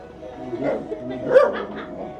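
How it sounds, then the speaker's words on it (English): A dog gives a couple of soft, drawn-out yelping barks, almost howl-like, close by and fairly quiet, with faint background chatter. "The dog is singing a song."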